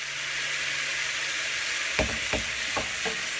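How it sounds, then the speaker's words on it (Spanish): Green beans sizzling steadily in a frying pan, a constant close hiss broken near the end by a few soft stirring scrapes, with no voices. "Dejamos que fría un poco para después agregarle los huevos"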